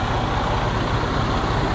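A 2020 Freightliner Cascadia 113 semi truck runs at a steady idle, its deep diesel rumble loud and close with an even low throb and no voices.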